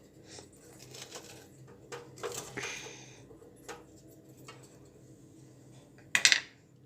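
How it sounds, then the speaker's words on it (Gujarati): A metal spoon stirs green pigeon peas into steamed flour dough in a pot, giving scattered soft scrapes and taps, then a sharp clatter of utensil against the vessel near the end. "હવે એમાં આપણે લીલા દાણા નાખી દઈશું અને મિક્સ કરી"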